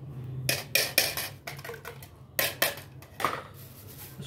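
A spoon clinks and scrapes against a glass while a sattu drink is mixed, a series of sharp metallic taps in uneven bursts with brief pauses, close and fairly loud with no talking.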